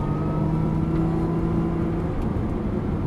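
A Nissan GT-R engine hums and whirs at a steady pitch on a race circuit, heard from inside or close by, with a faint rising tone and no talking.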